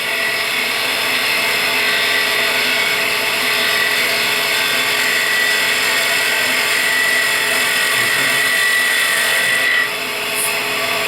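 Skew chisel cutting wood on a lathe, giving a steady, smooth shearing hiss with a constant motor whine underneath, close and continuous, the tone shifting slightly near the end.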